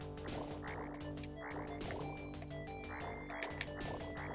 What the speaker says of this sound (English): Alright, back to all the crickets.